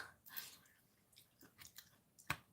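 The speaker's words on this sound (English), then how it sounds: "I will be munching, so sorry about the munching sounds" Close, quiet chewing and biting of lunch food, with several soft crunchy bites and wet munching sounds in an uneven rhythm and one sharper crunch near the end, with no talking.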